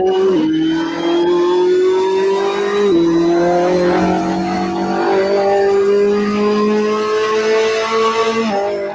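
A race car in a sim racing video game, its engine droning loud and steady with pitch drops as it brakes and rises again under acceleration, and faint tire noise underneath.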